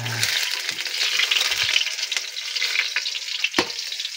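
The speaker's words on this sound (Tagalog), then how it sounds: "Lagay natin ito sa kawali na may oil." Dried fish frying in oil in a pan, a steady bright sizzle throughout with a few small pops and clinks, close and fairly loud, no talking.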